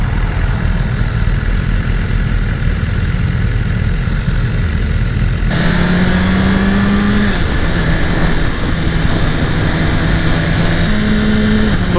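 A 2018 BMW S 1000 RR motorcycle engine roars loudly and steadily while riding, with revs climbing and quick-shifter gear changes marked by brief shifts in pitch.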